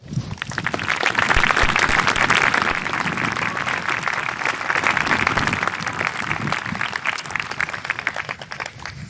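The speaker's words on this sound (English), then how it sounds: "Please give a round of applause for their years and dedicated service to St. George's School" Audience at a school graduation ceremony breaks into sustained, dense applause that holds steady for about nine seconds, many hands clapping together in a large space.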